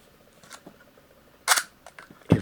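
A Leica IIIb camera is wound and its shutter fired: a few soft ratcheting clicks of the winding, then a sharp metallic snap of the release and a final dull thump, close and quiet.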